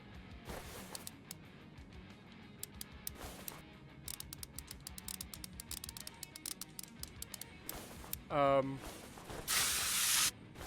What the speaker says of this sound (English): we had to press the button to spray the bolts with freaking WD?